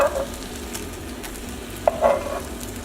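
A pan that has just held a ribeye steak and veggies keeps up a soft, steady sizzle, with a couple of brief stirring scrapes partway through.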